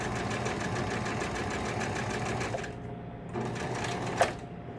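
A sewing machine stitches a straight seam with a steady, fast mechanical chatter, near and continuous, easing briefly and then resuming.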